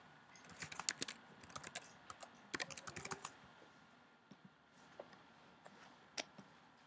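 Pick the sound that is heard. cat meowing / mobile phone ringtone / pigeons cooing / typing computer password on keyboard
typing computer password on keyboard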